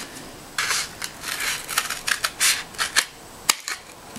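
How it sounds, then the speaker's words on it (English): Scissors snip through a cardboard toilet paper roll in a quick series of crisp, sharp cuts, close up and fairly loud, with no voices. "One side you have to cut all the way."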